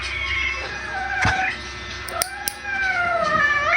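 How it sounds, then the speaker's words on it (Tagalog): A cat yowls and caterwauls in long, wavering cries while having its claws trimmed, loud and close, with a few sharp clicks and scuffs of handling between the calls. "Ganito pag nagkuko ng pusa."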